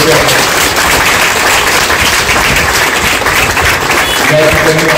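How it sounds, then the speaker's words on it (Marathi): An audience at a hospital inauguration ceremony in Malegaon applauds a newly introduced couple, steady loud clapping filling the hall throughout. "मी आपल्याला सर्वांना विनंती करेन की टाळ्या वाजवून या नवीन जोडप्या"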